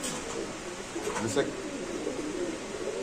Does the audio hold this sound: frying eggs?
no